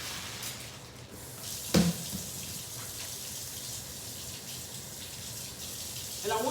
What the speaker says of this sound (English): let me rinse this spoon off